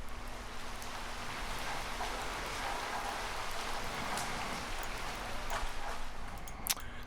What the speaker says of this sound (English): I got some rain that I recorded one day.